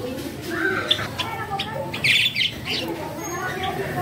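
Several young pet bird chicks give scattered high chirps and tweets at close range, fairly faint, with someone talking over them throughout.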